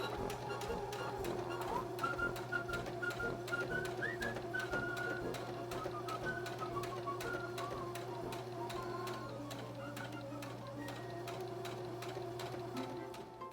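Sewing machine stitching fabric with purple thread around a Dresden Plate center circle onto background fabric, a steady rapid close mechanical ticking and whirring that runs continuously without pause.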